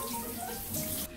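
Tap water runs steadily into a sink or tub while a puppy is washed after stepping in its own droppings, a continuous close splashing flow with no talk over it.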